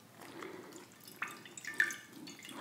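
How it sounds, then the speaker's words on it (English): A washcloth is wrung out over a bowl of peppermint water, giving soft, close, faint drips and trickles with a few brighter splashes in a quiet room. "wring out my washcloth, just soaking it a bit more in the peppermint water."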